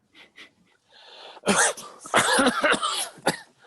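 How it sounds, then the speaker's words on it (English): A few soft breaths, then a burst of harsh, loud coughing, several rough hacks in quick succession with a final short cough. "Oh, I coughed."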